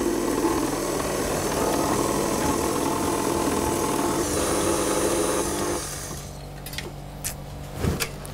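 An electric mixer whirs steadily at low speed for several seconds, then cuts off, leaving a few faint clicks and knocks afterward.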